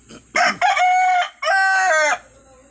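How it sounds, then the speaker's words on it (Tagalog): A rooster crows at a farm where ducks and chickens are kept: two loud, close harmonic calls, the first rising and broken into short bursts, the second long and drawn out, with no talk over them. "Yung manok dito, oh."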